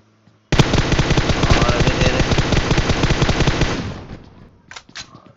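Automatic gunfire in the mobile game PUBG Mobile comes in one long, loud, rapid burst of shots at close range that tails off after a few seconds, followed by a couple of lighter taps.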